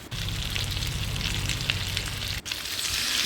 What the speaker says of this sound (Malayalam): ആ പൊരിച്ച എണ്ണയിലാണ് നമ്മൾ ക്യാപ്സിക്കം, ഉള്ളി